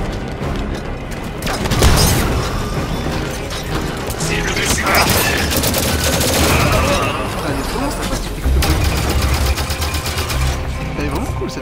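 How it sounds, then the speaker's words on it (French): Rapid machine gun fire from a sci-fi shooter game, Halo 5, rattles continuously and loudly for most of the stretch amid game effects and occasional booms, with a person talking over it. "Elle est vraiment cool cette mitraillette, putain."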